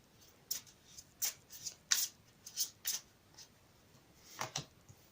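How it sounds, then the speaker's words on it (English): Quiet riffling of a tarot card deck being shuffled, several short crisp bursts with gaps between, close by and soft. "I'll pre-shuffle them. I'll shuffle them again."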